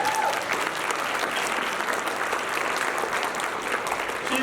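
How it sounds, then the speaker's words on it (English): Steady, dense applause from an audience at an institute's tenth anniversary event, a continuous even wash of many hands clapping with no break for the whole stretch, a faint voice just under it. "Another round of applause."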